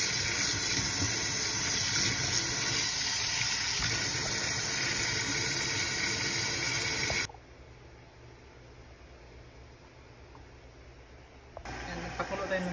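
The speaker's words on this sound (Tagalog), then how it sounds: "Hugasan natin yung hipon" Shrimp are rinsed under a running tap, a steady, close splashing hiss for about seven seconds. The flow then stops, leaving quiet room noise, and resumes briefly at the end.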